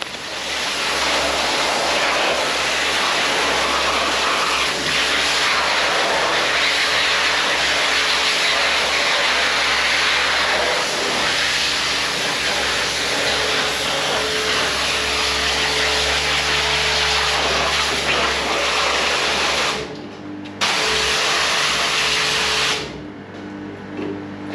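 Toro Greensmaster 3250D diesel mower running outdoors, a loud, steady broadband roar with a low engine drone throughout, briefly dipping near the end.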